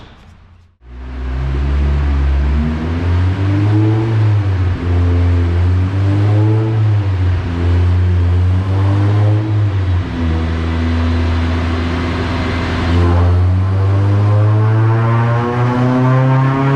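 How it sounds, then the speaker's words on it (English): A Honda Civic Si with a K20Z3 engine and a 3-inch short ram intake starts and revs hard, its loud engine tone rising and falling through several pulls, close and steady with no talk. "why don't we get the car up and running and see how this 3-inch version of the"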